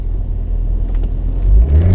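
Subaru Impreza hatchback driving past, a loud low engine rumble that swells toward the end, heard from nearby with no talk.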